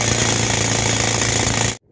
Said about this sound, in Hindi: अभी हम ट्रैक्टर को चालू करेंगे तो ये ड्रिलिंग चालू होएगा।